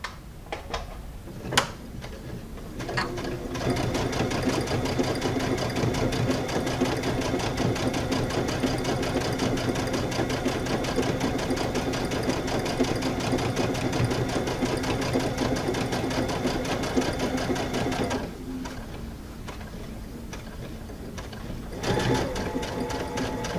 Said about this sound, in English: I'm going to stitch my binding on, stopping a 1/4 inch from the end.